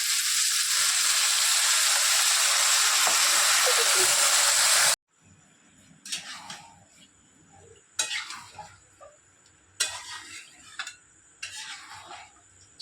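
Chicken pieces frying in a pan as sauce is added, a loud, steady sizzling hiss for about five seconds, then quieter stirring with a few scrapes and clinks of a utensil against the pan.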